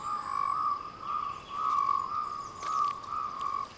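Cape rain frog calling on a misty night, a steady series of high trilling pulses repeating roughly every half second, fairly close and continuous over a soft background hiss.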